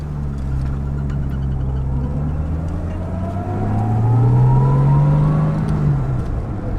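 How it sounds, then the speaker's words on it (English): Mellow straight-six note of a 1966 Jaguar XKE Series I 2+2 coupe on its stock exhaust, droning close while driving, then rising as the engine revs up and easing back off. "It is a stock exhaust system, so it has that nice mellow, straight 6 Jag sound."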